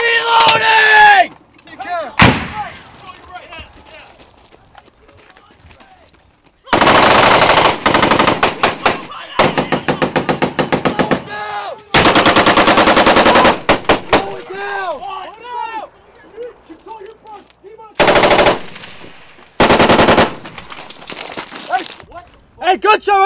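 Heavy machine gun fire in an Afghanistan firefight involving Marines rips out in several long, loud, close bursts separated by pauses, with people shouting between them.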